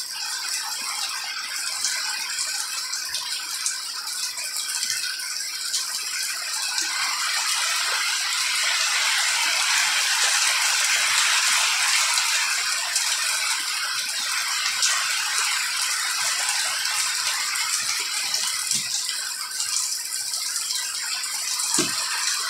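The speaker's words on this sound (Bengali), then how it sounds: "যতটুকু সম্ভব বৃষ্টির আওয়াজ শোনা যাচ্ছে" Heavy rain falls at night during a deep depression at the start of the rainy season, a steady loud broadband hiss and clatter that may include drumming on a tin roof, continuous throughout with no voices.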